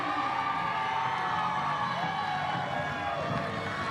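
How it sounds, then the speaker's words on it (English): A Little League baseball crowd reacts in a continuous, dense roar of cheering and shouting that holds steady and loud throughout, with faint voices blended in. "Crowd reaction tells you the story."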